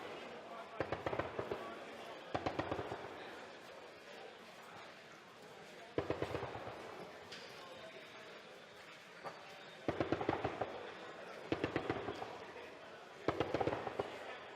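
Live firing of 12.7 mm multi-purpose rounds at an outdoor ammunition demonstration range, heard as several clusters of loud, sharp bursts spaced a few seconds apart over a steady background murmur.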